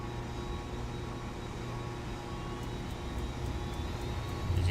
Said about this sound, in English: APU starting up